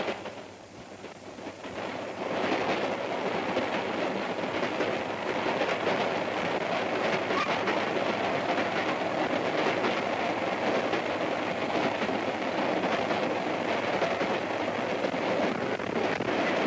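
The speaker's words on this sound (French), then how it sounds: "La locomotive, qui vient de parcourir 150 km, regagne un dépôt" A steam locomotive rolling along the rails after a long run, heard as a loud, continuous rumbling roar with wind buffeting. The sound swells in over the first couple of seconds and then holds steady, with no voices.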